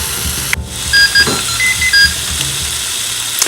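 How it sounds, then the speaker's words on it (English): An All-Clad indoor grill with Autosense signals that chicken breast is done with a series of short, high electronic beeps in a brief irregular pattern, heard close over a soft sizzle. "It's just like a little beep to let you know that everything is ready"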